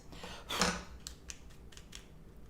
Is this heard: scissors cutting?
yes